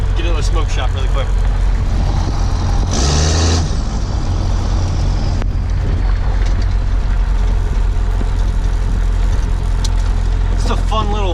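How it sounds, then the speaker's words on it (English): A Cummins diesel pickup project truck drives along with a loud, steady low engine rumble throughout, close and constant, with a brief burst of hiss or rushing noise partway through. "It's a fun little drive in the new project truck."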